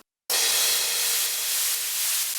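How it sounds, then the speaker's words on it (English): White noise layered with a crash cymbal in a Viking-style house track, sidechained to the kick, enters abruptly after a brief silence as a loud, sustained, bright hiss that holds steady to the end. "I use a white noise, which is really giving power to the track"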